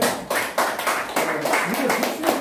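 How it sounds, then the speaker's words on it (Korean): Audience applause for the committee chair at a Korean lifelong-education lecture, a burst of hand clapping from a modest group in a room, rising in uneven waves over a couple of seconds with talk running beneath it. "박수 한번 쳐줘야 돼요"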